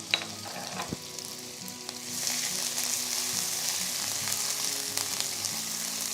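Dried red chillies, chopped spring onion whites, garlic and ginger frying in hot oil for a Chinese-style dish, giving a steady, close sizzle that grows louder and denser partway through, with no talking.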